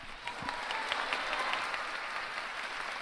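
Steady applause from an audience after President Endo's talk, a dense, even wash of many hands clapping throughout with no voices.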